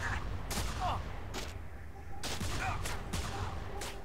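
Gunfire in the video game Manhunt 2 during a shooting section: repeated bursts of shots in quick succession over a loud, busy game soundscape, with no talk.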